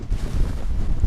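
Wind buffets a microphone outdoors at DFW International Airport, a steady low roar of gusting rumble that fills the whole moment without letting up.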